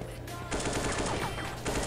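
Rapid bursts of automatic gunfire in Counter-Strike 1.6 on a CS-GO style mod, loud and dense, starting after a brief quieter moment and continuing in clustered volleys with shell-like clinks.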